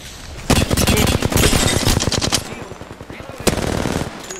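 Rapid automatic gunfire from the video game Apex Legends, two long loud bursts of close shots with a short pause between, no talk over it.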